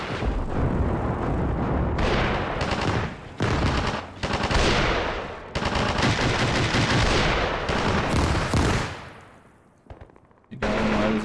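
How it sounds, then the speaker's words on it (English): Bombardment and gunfire in the war game Armored Brigade: loud, dense bursts of shelling and rapid automatic fire in long rolling waves, broken by a few short gaps, with a quieter fade near the end before another burst. "More bombardments."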